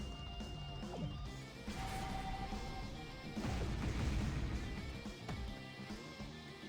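A special attack in the Fairy Tail: Magic Rumble game lands with a series of crashing impacts and booming hits over background music, the smashes swelling and fading across several seconds.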